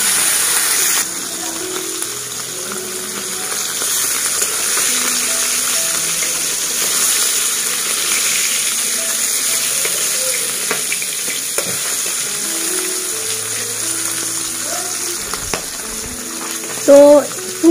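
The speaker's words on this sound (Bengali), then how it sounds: "তো এই মাছগুলো ভেজে নিচ্ছি এক এক করে, আর খুব হালকা করে মাছগুলো ভাজবো।" Parshe fish frying in oil in a kadai, a steady close sizzle that runs unbroken throughout, with faint stirring and clinking of utensils and a brief louder clatter near the end.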